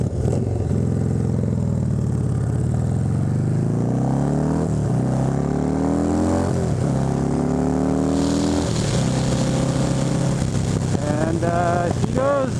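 A custom-built motorcycle engine revs and accelerates hard through several gear changes, its loud droning pitch climbing repeatedly before easing back, close and continuous with no talk.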